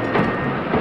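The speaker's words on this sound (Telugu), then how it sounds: "తప్పకుండా ట్రైన్ వెళ్ళిపోతుంది" A train pulls out of a railway station with a steady, loud rolling rumble and faint clatter; the sound is brief.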